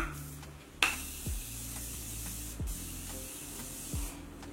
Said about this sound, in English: So I'm gonna spray my face again with this Morphe spray